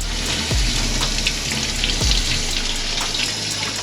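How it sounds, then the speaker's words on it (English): Water used to wash out a cut line on a car's engine parts during a supercharger install, a close continuous splashing hiss with a couple of low thumps, no speech. "now I'm gonna use a little bit of water and wash this out"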